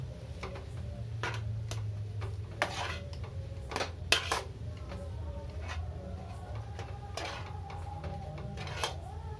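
Clinks and scrapes of a spoon stirring a flattened rice (chira) mixture with chopped coriander in a pan, irregular light metallic taps repeating over a low steady hiss, fairly close and moderately quiet.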